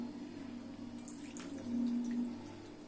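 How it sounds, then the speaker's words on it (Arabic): Water is poured into a cooking pot while making Aleppo-style muhammara, a faint, steady stream with a low hum beneath it that swells slightly near the end. "راح انزل المي"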